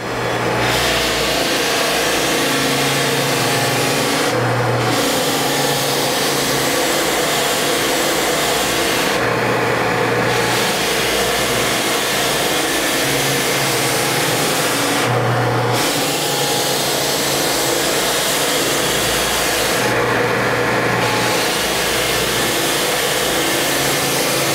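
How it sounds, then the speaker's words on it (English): A drum floor sander running a brand-new Norton Red Heat 50 grit belt at full drum pressure roars loud and steady. The tone shifts and dips in regular cycles as it makes repeated passes across the floor. "So we'll start out first with the Norton Red Heat. Brand new 50 grit belt."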